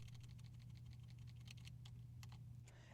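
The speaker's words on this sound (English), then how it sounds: "hold down the Option or Alt key on my keyboard and press the up or down arrow key on my keyboard" Computer keyboard keys are pressed in a quick run of light clicks, then a few slower taps, quiet over a steady electrical hum.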